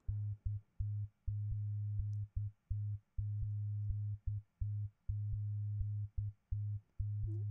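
A synthesized tech house bass line plays alone as a loud, clean low-pitched pattern of sustained and short notes in a syncopated, repeating dance groove.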